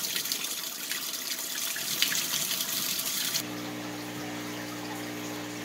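Tap water runs steadily from a faucet during an aquarium water change, a constant hiss that abruptly shifts to a different, more tonal flow partway through.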